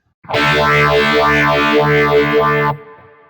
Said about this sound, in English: So this is based on the MXR Phase 95 pedal.